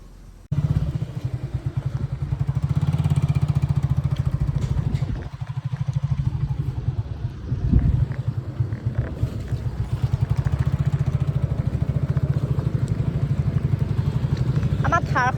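A motorbike rides along a rough, bumpy road, its engine droning steadily and loudly with rattling clatter from the jolts. A rider talks over it throughout.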